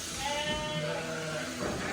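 A sheep bleats during shearing, one drawn-out, wavering cry close by over a soft farmyard background.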